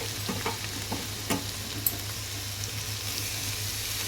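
Mint, coriander and curry leaves tossed into a hot tempering in a pan for tomato, coconut and soya chunk rice, giving a soft, steady sizzle with occasional stirring scrapes and taps.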